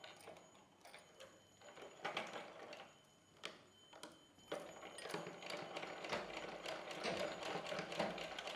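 A sewing machine stitches a small night dress for a doll, giving quiet, rapid mechanical ticking and whirring in short bursts that lengthen into a steady run.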